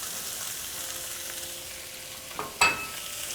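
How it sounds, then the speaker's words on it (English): Chopped chile peppers and onion fry in hot oil in a pan. A steady, even sizzle runs throughout, with a couple of quick utensil scrapes near the end. "once our oil is hot, we're going to add our chopped chile peppers"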